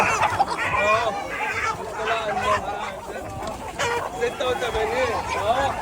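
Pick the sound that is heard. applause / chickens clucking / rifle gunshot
chickens clucking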